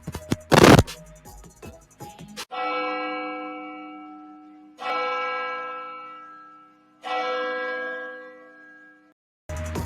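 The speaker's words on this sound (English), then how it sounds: "can we drop some church bells real quick for the lives that was lost in the situation?" Church bells played as a tribute ring out in three slow, resonant strikes, each ringing long and fading before the next, after a brief clatter of handling noise at the start.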